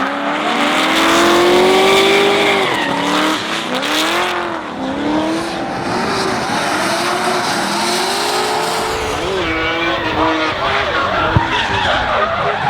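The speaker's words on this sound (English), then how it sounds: "the Red Bull RX-7 pulling a gap on the Forsyth S13" Drift cars at a D1NZ championship round at Hampton Downs, including a Red Bull Mazda RX-7 and a Forsyth Nissan S13, scream with continuous tire squeal and revving engines, loud and close throughout.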